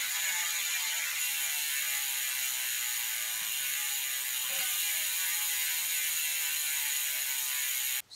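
An Industry 9 Torch rear hub on a mountain bike freewheels, giving a loud, rapid, high-pitched buzzing ratchet click that runs steadily and alone for about eight seconds before cutting off.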